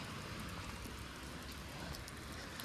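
Rain falls steadily on a city street in Toronto's Mimico neighbourhood in Etobicoke, a continuous soft hiss with no break and no voices.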